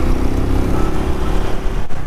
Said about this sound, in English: But then this is a straight exhaust.